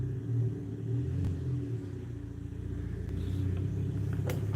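A Chevrolet Camaro V6 fitted with an aftermarket exhaust rumbles steadily, deep and throaty, with slight swells of revving across the span and no talking over it.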